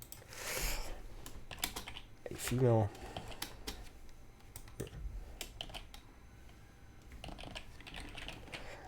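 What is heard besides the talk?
computer keyboard typing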